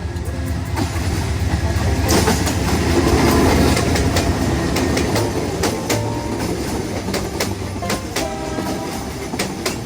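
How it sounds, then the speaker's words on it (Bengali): A Dhaka-to-Sylhet passenger train rumbles past close by at Sreemangal, steady clattering of wheels on rails with sharp rhythmic clicks and occasional metallic squeals throughout. "এখন কিন্তু এ রেল লাইন ঢাকা থেকে এক যে ট্রেন আসছে সিলেটে যাওয়ার জন্য"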